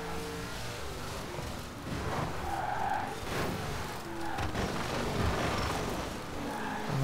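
Racing cars in Forza Horizon 4 skid through a street marathon race, revving engines and tire squeals overlapping in a continuous, fairly loud game mix.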